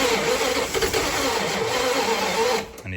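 A 1970 Dodge Dart Swinger engine cranks on a borrowed battery, turning over steadily and loudly for about two and a half seconds before cutting off, with no clear catch.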